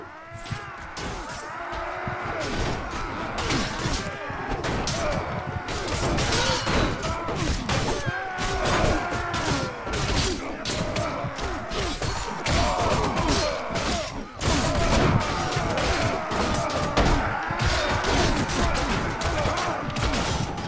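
Chaotic Mount and Blade Warband: Viking Conquest battle with skirmishers firing, a dense, continuous clatter of thuds, whacks and crashes at steady loudness throughout, with voices shouting amid the fighting.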